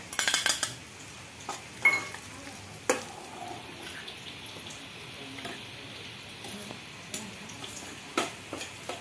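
Coarse-ground makhana mix sautéed in ghee in a pan for a fasting kheer: soft sizzle under repeated sharp clinks and scrapes of a spoon against the metal pan, close up.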